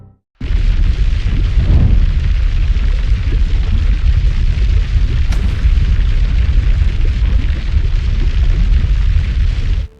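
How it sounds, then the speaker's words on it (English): The Hunga Tonga volcano in Polynesia erupts with a massive explosive roar that bursts in suddenly and rumbles on, deep and unbroken, for about nine seconds, with a brief crack midway and no voices. "The Hunga Tonga volcano erupts in Polynesia, sending ash high into the atmosphere. The explosion is powerful enough to be heard from a great distance."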